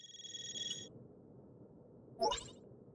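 Zifa phones ringing all at once in Trails Through Daybreak, a steady electronic ringtone for nearly a second, then quiet room tone, then a short rising chirp near the end.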